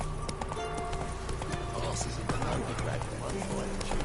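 A horse galloping in the video game The Witcher 3, steady rhythmic hoofbeats thudding close by under a voice and other game sounds.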